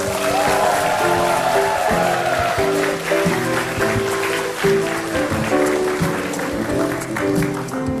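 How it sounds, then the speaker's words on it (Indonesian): An audience claps for Mbah Kandar, an elderly comic from Wonosobo, a sustained round of applause mixed under loud, steady stage music. "Kita kasih tepuk tangan untuk Mbah Kandar."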